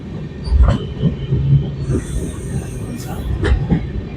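A train rumbles past nearby with rhythmic wheel clatter and thuds, occasional metallic squeals rising above the steady rolling noise, near the Godavari river in India.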